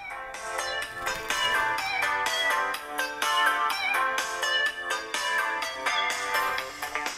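Music plays through the loudspeaker of a Vivo V21 phone, a dense continuous melody with a steady beat, fairly clear and close, with no one talking over it.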